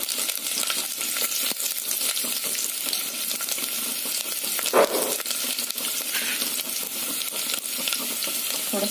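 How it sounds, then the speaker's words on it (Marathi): Finely chopped garlic added to cumin seeds already frying in hot oil for a dal tempering, a loud, dense, steady sizzle with crackling spatter and one brief louder clatter near the middle, close up and without talk. "आता आपण याच्यातच लसूण घालणार आहे, बारीक चिरून घेतलेलं."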